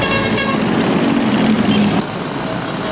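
A car horn toots for about a second over loud, steady city traffic noise, with engines rumbling throughout.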